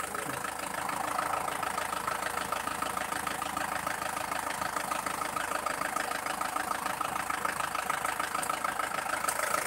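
A car engine idles steadily with a blow-by gas hose fitted, an even, slightly knocking mechanical patter heard close and continuous with no talking.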